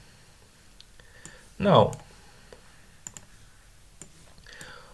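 A single close, sharp click burst from a computer mouse double-clicking a file, standing out over faint keyboard taps and quiet background, with a voice briefly speaking.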